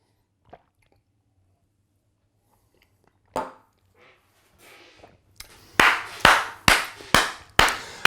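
Hands clap in a quick run of about six sharp, close claps near the end, following a few scattered soft taps and rustles in an otherwise quiet room.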